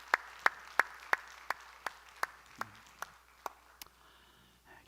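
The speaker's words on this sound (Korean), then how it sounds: "박수하시겠습니다." A small church congregation gives a brief round of applause: about a dozen slow, distinct claps, sparse and fairly close, fading toward the end in a quiet room.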